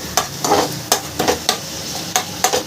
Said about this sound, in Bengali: সব আমি একসাথে একটু ভালো করে কষিয়ে নেব।